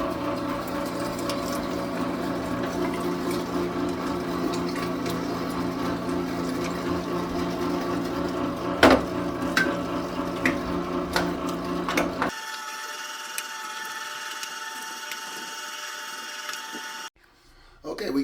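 A meat grinder grinding pork for breakfast sausage runs with a loud steady mechanical whir and rattle, then shifts to a lighter, higher motor hum before cutting out near the end.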